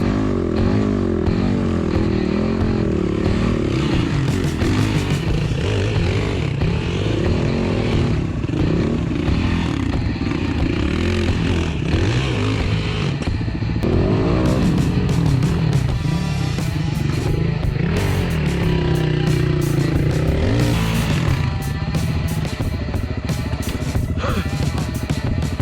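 Yamaha WR250R and WR450F, KTM and Beta dirt bikes grind up a steep, rocky goat track in the Watagans, engines droning and revving steadily throughout, with occasional clatter and scraping over the rough ground.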